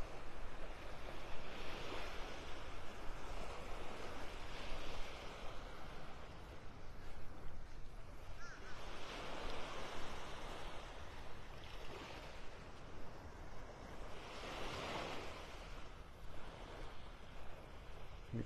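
Waves wash onto a bright, sunny beach in North Naples, Florida, a steady, moderately distant surf hiss that swells in slow surges, with wind on the microphone and no talking.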